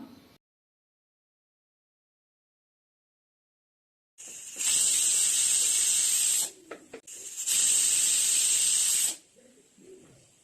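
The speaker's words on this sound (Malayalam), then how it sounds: "ഇനി ഇത് 2 വിസിലിൽ വേവിച്ചെടുക്കാം." Pressure cooker on the stove cooking carrots with a little water, letting out two loud, sustained bursts of hissing steam separated by a brief pause, after several seconds of silence.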